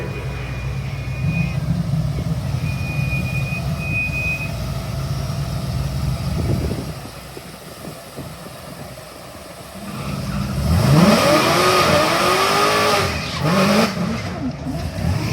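Drag racing cars at a Michigan strip roaring and accelerating, a continuous engine drone that dips briefly and then swells with rising revs, loud and fairly near with a faint voice mixed in.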